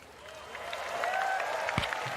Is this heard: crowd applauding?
yes